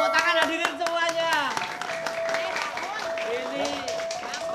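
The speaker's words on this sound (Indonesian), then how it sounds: "Tepuk tangan hadirin semuanya." An audience at a traditional arts performance claps, a dense patter of hand claps mixed with speech and a sustained tone, moderately loud and near.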